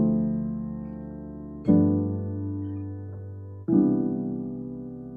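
Three rich, sustained jazz piano chord voicings with deep root notes in the bass, each struck firmly and left ringing before the next one lands.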